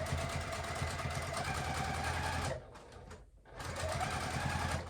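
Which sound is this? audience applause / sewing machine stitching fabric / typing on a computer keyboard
sewing machine stitching fabric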